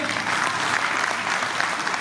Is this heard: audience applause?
yes